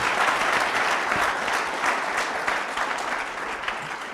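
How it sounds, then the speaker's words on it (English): A workshop and expo audience gives Emmanuel a round of applause, steady dense clapping from a crowd that slowly eases slightly in loudness. "Just give Emmanuel a big round of applause"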